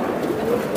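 A racing Giribaz pigeon coos in a brief, low, steady murmur close by, under a constant broadband hiss.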